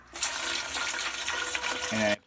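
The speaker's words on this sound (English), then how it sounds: "pour this in this water jug right here" Water pours steadily and loudly into a water jug for about two seconds, rising slightly in pitch as it fills, then stops abruptly.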